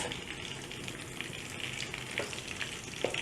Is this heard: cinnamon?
yes